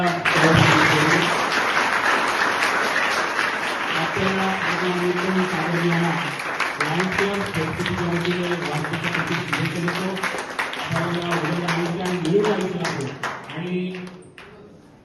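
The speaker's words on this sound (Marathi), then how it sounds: "त्यासाठी जोरदार टाळ्या एकदा" Applause breaks out at a birthday celebration hosted by a Lions service organisation, a dense patter of clapping running nearly the whole time beneath someone speaking over it, fading near the end.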